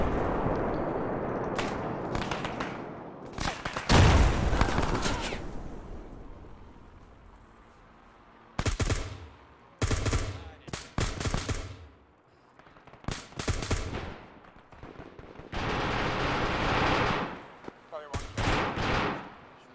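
Arma 3 combat: a heavy grenade blast booms loud and close, followed by repeated bursts of rattling gunfire and further bangs that come in loud uneven clusters separated by quieter gaps.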